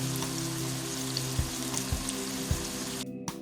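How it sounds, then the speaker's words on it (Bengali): Kebabs fry in a little oil in a frying pan on the stove, giving a soft, even sizzle broken by a few small pops and low knocks, with no talking. "এখন চুলাতে ফ্রাই প্যান বসিয়ে অল্প তেলে কাবাবগুলো ভেজে নিচ্ছি।"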